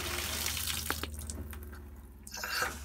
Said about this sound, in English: open my hot and my cold water on all my faucets till I see the pink antifreeze coming out